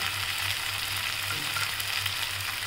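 Green chili and garlic paste sizzling in a pan with beetroot for a bhaji, a steady, close, broadband hiss of frying that continues evenly throughout with no voices.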